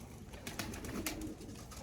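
Soft, low cooing of game pigeons bathing in 35° heat murmurs steadily against a faint background hiss, with a few brief rustling bursts in between.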